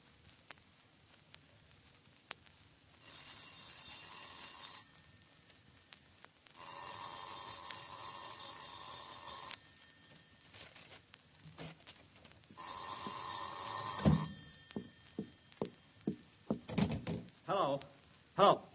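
An old telephone in a vintage radio drama rings in repeated bursts of bell tones with pauses between, then a rapid series of clicks and knocks as the receiver is handled and dialed, with faint voices speaking.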